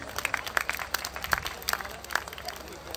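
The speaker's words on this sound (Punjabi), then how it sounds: "ਸੋ ਇੱਕ ਵਾਰੀ ਆਪਣੇ ਮਾਂ ਪਿਓ ਦੇ ਨਾਂ 'ਤੇ ਤਾੜੀਆਂ ਮਾਰਦੇ ਸਾਰੇ ਜਣੇ" A crowd at a fair for Hazrat Baba Pir Bakhsh claps in scattered, uneven bursts, moderately near, with some voices mixed in.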